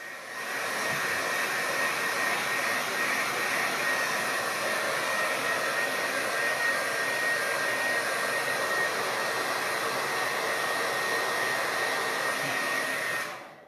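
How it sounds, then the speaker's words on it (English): A hair dryer blows steadily and loudly for several seconds, a constant whooshing whir with a faint high whine, then cuts off abruptly. "I'm going to run my hair dryer over this again and just dry these a little bit."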